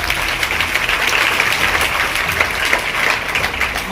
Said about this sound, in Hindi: ताली है उस बच्चे के लिए।